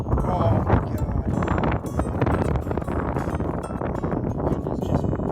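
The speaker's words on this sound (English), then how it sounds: "the wind screwed me" Strong wind buffets the microphone out on open water during kayak fishing, a steady loud roar filling the whole stretch.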